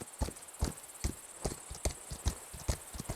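A horse walks in the video game Equinox Homecoming, its hooves striking in an even, steady clip-clop of about two beats per second, close and clear with no talk.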